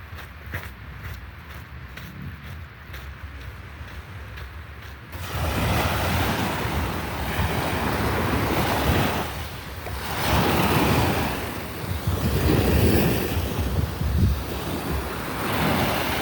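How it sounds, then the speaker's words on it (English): Mediterranean Sea waves roll and crash in repeated surges under heavy wind buffeting the microphone, loud and close, after a few seconds of quieter rustling. "Here's the bloody sea,"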